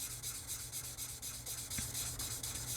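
Rhythmic wet sanding strokes with 240-grit sandpaper on a plastic scale model, a steady back-and-forth scrubbing that repeats quickly and evenly at close range.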